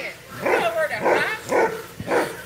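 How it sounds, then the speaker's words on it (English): A dog barks at a store during an outdoor summer slip-n-slide gathering, four or five sharp barks in a steady rhythm, fairly close and clear. "Your dog Flash is barking at the store."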